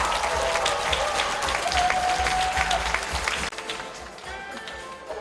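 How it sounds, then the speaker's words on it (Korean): A crowd applauds at a Democratic Party lawmaker's legislative report event in Seo-gu, Incheon, with dense, steady clapping and some raised voices filling about five seconds before easing slightly toward the end. "여러분 큰 박수와 함성을 부탁드립니다"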